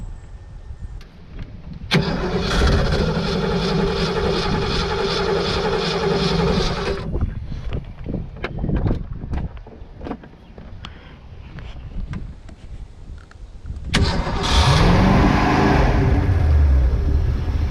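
A Ford 351 V8 inboard boat engine cranks, then catches and runs with a steady rumble; after a lull of clicks and mechanical noises, it roars up loudly again.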